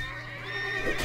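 A zebra mount in the video game World of Warcraft neighs once, a short, fairly faint whinny with no other sound around it.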